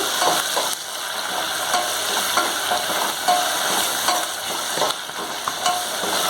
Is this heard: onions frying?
yes